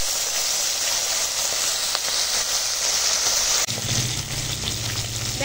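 Bata fish frying in oil makes a loud, constant hissing sizzle, and a low bubbling rumble joins in near the end as the frying deepens.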